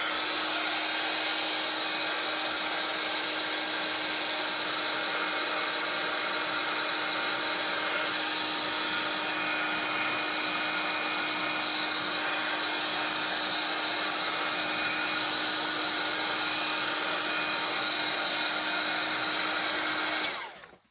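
Heat tool drying a napkin decoupage piece in a junk journal, a steady whirring fan and heater drone with a constant tone, close and unbroken for about twenty seconds before it switches off abruptly.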